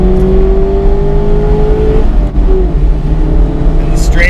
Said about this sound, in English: you can hear her whining out, getting up towards 60